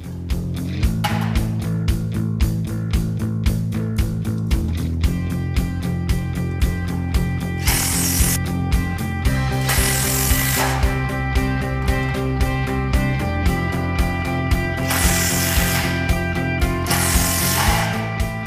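A power screwdriver drives screws into a light gauge steel frame truss, giving repeated loud whirring bursts with ratcheting clicks and a couple of harsher high-pitched screw runs, close by and without speech.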